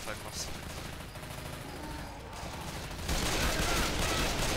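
Rapid gunfire from dual pistols crackles in Left 4 Dead 2 as a dense, continuous rattle of shots that grows louder and busier partway through, mixed with other in-game combat noise.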